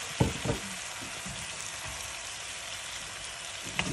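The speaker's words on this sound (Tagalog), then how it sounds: "Ihaluin lang natin." Spare ribs sizzle and fry steadily in a wok, with a few clacks from stirring near the start and one more at the end, loud and close with no talk.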